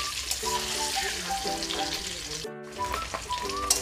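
Eggs frying lightly in a pan over a high gas flame for egg curry, a close, even sizzle with a few soft scrapes and a momentary break in the sound partway through.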